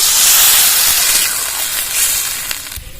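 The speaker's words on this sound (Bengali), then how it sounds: "এবার জল দিয়ে দেবো" Water poured into a hot pan of vegetables (drumstick curry) with salt and turmeric, bursting into loud, broad hissing steam that slowly fades across a few seconds, close and alone.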